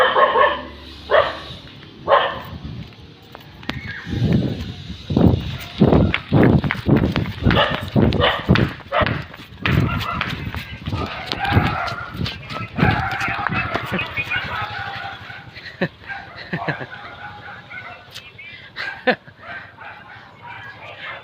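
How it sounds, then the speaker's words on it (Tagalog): Two large dogs bark repeatedly in bursts while chasing, with footsteps and movement nearby and a person talking intermittently over the commotion. "hinahabol tayo ng mga aso dito kasi si Charlie kasi papunta kahit saan pang"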